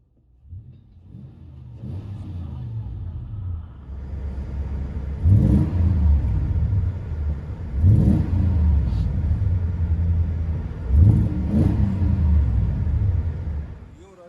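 From inside the cab, a Toyota Tundra with a 4.7L V8 and Magnaflow exhaust with 4-inch tips rumbles, then blips the throttle three times in roughly even swells, each rev rising and easing back to a deep idle.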